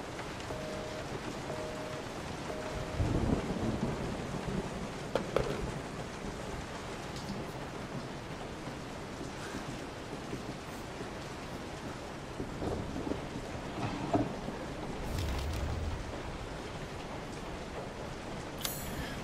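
A thunderstorm rages in the horror video game Resident Evil 7: steady heavy rain hisses throughout while several deep thunder rumbles and cracks roll in at intervals, fairly close and loud.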